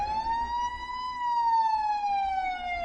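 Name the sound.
police sirens sound effect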